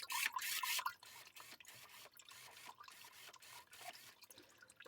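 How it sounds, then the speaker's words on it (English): A small pump drives a homemade Lego water fountain, giving a steady trickling, splashing water sound with soft gurgles and rustling, close and fairly quiet throughout. "And just leave the water fountain going."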